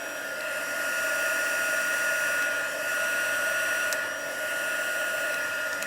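A heat tool blows steadily while drying and setting pools of craft ink colour inside an embossed design, a continuous whooshing hum with a faint high whine that holds level for about six seconds, alone with no talk.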